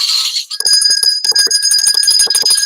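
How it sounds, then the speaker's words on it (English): Old-fashioned jingle bells ring in a loud, steady shimmer of bright metallic jingles with sustained high tones, rhythmic shakes repeating close by for nearly three seconds with no talk. "we got old-fashioned jingle bells"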